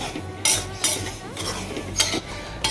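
Semolina (rava) is dry-roasted in a pan for ravva laddu, with a spoon stirring and scraping against the metal in irregular sharp knocks over a low background hum, close by.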